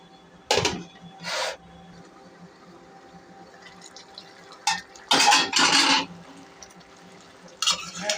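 A metal lid is set onto a cooking pot in a home kitchen while a dish of eggplant with gizzard and liver cooks, giving a few short, sharp clanks and scrapes close by in an otherwise quiet room.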